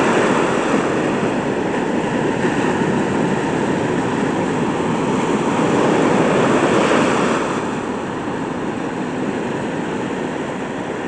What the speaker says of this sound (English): Ah, they're really big, way out there.